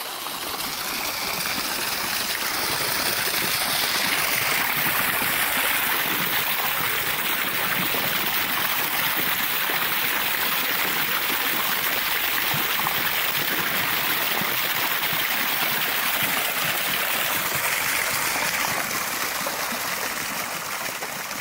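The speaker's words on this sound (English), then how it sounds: "water can build up inside hollow sections of a tree and escape through cracks, turning the trunk into a natural fountain" Water pouring from cracks in a hollow tree trunk like a natural fountain, a steady loud rushing and splashing that continues unbroken throughout.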